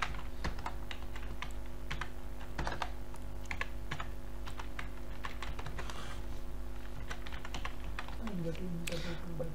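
Someone types a name on a computer keyboard while signing up for an account, producing irregular clusters of close key clicks over a constant background hum, with a brief tonal sound near the end.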